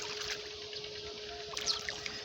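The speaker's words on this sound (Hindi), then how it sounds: "ये पानी जा रहा है आगे फसलों में।" Irrigation water from a village tubewell flows into crop fields with a steady rushing wash, a constant low mechanical hum underneath and a few brief splashes near the end.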